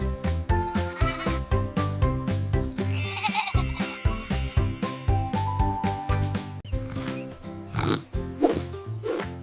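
A goat bleats over a busy, loud bed of music, with repeated bleating calls that stand out through the steady rhythmic backing.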